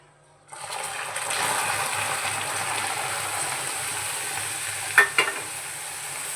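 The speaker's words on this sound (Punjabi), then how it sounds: "ਹੁਣ ਆਪਾਂ ਇੱਥੇ ਦੁੱਧ ਐਡ ਕਰ ਦਾਂਗੇ" Milk poured onto caramelized sugar with saffron in a pan, then stirred: a steady hissing, bubbling wash begins abruptly and continues, ending with a couple of sharp clinks of the spoon against the pan.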